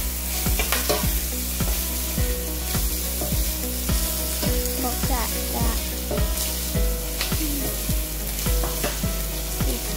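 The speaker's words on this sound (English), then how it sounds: "Cooking food." Iloco empanadas fry steadily in a pan, with a continuous close sizzle and repeated clinks and scrapes of a utensil stirring and turning them throughout.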